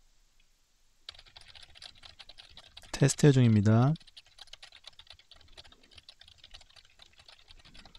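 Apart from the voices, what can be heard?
computer keyboard typing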